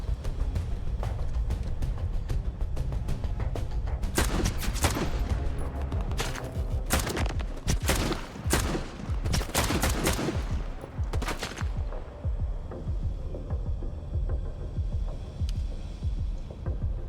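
Rapid bursts of video game gunfire in a shooter, dense volleys of shots clustered between roughly four and twelve seconds, loud and close over a steady low rumble, with lighter scattered shots before and after.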